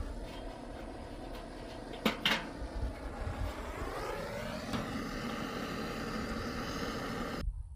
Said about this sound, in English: So we're going through this door in the front.